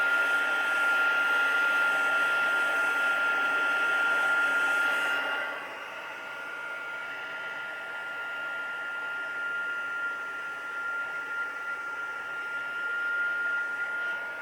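A hair dryer blows steadily at close range over a painted junk journal page, a loud whooshing hiss with a thin whine that drops abruptly to a quieter, duller airflow partway through and continues to the end.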